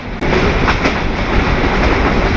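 Heard from aboard the Mohanganj Express as it runs through Rajendrapur railway station, a loud, dense, continuous rumble and rattle of train wheels fills the moment up close.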